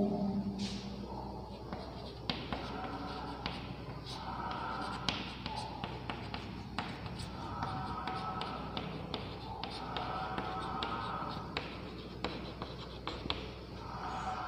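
Pen or chalk writing by hand in a classroom-style lesson: quiet continuous scratching strokes with frequent small taps, steady for the whole stretch with no talk.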